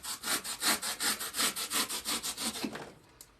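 Stem of a floral arrangement being trimmed, a quick run of about fifteen evenly paced rasping strokes, close and fairly loud, fading out at the end with no talking.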